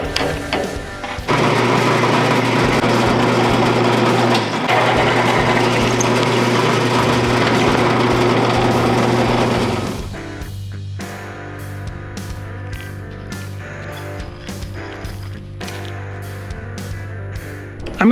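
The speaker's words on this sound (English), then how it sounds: "Time to go punch some holes in those, and with the K&Cut bits, drilling is always a pleasure." Drilling holes in steel truck frame tabs with K&Cut bits: a loud, steady mechanical whine for several seconds, then a quieter stuttering run of short bursts as the bit bites and stops.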